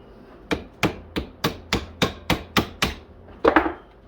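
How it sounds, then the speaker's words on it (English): A flat punch taps a wrist pin out of a chainsaw piston, about ten sharp metallic knocks at a steady, even rhythm, close and clear, ending in a quick double strike. "Take a flat punch. I'm going to hold the piston. And I'm going to tap it out."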